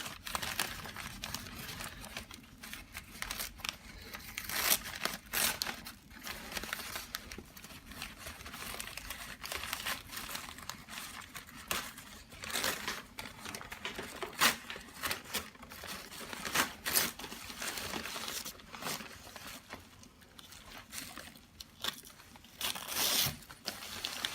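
Packaging is ripped and crinkled while unboxing orchids from Carter & Holmes, with repeated sharp tearing bursts and rustling of paper and plastic over about twenty seconds, close and fairly quiet.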